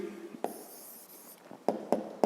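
Pen strokes scratch on paper as an answer is written out by hand for a fifth-grade math exercise, in short, close, quiet taps and scrapes with a few sharper marks near the end.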